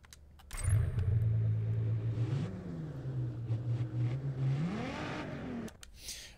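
Car engine in the racing game Test Drive Unlimited Solar Crown, a loud steady low drone that climbs in pitch as it revs up and then cuts off abruptly, with no talk over it.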